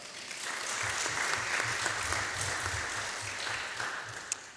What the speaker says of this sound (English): can we give a round of applause to Mr.